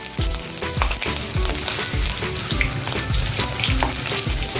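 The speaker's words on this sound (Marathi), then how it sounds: "भज्यासोबत खायला मी मिरच्या तळून घेते" Slit green chillies fry in hot oil with a steady, dense sizzle, crackling close up, and regular clinks and scrapes of stirring run underneath.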